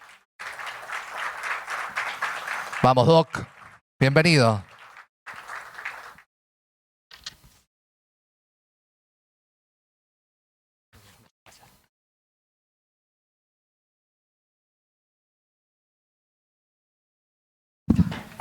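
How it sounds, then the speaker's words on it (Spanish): Audience applause at a tech conference on drone photogrammetry greets a doctor arriving onstage: a dense burst of clapping for about three seconds, then brief spoken greetings and long near-silence. "Los aplausos."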